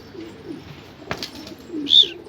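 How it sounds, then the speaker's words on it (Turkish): Pigeons in a loft crowded with hundreds of birds coo softly in the background, with a sharp close tap and a brief high chirp near the end, and there is no talk. "arkadaşlar çok güzel kuşlar var"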